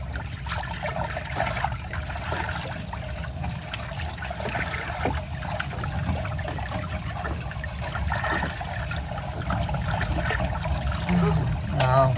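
Rainwater flowing into a room, a continuous trickling and running stream of water, fairly close and steady throughout, with a little talk heard in the background.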